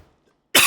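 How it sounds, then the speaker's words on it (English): A single sharp cough bursts out close to the microphone after near silence, loud and brief. "I don't know why I'm coughing so much, sorry."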